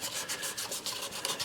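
Quick back-and-forth rasping strokes of sandpaper on the wooden body of a custom quilted mandolin, close and steady, about eight rhythmic passes with no voices.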